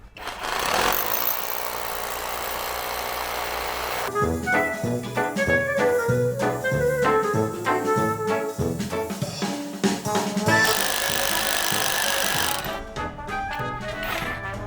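A loud mechanical drilling roar from a STROMO cordless rotary hammer drilling holes runs in bursts with a rough hammering rattle, pausing and restarting as its battery protection cuts in, close by with no talk.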